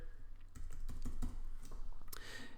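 A short run of keystrokes on a computer keyboard as a single word is typed, light quick clicks close by over a faint hum, with no talking.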